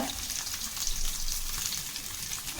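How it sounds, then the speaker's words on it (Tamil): Onion and lentil masala paste sautéing in a pan for a bitter gourd dish, a steady close crackling sizzle with no talk. "இப்போ இது வந்து நல்லா வதக்கி விடலாம்"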